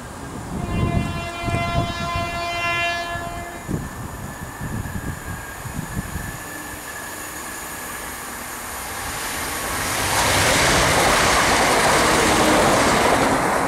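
A Class 170 diesel multiple unit, 170204, sounds a single-tone horn as it nears Spinks Lane level crossing, then roars past loud and close with a rising rush of wheels and engine.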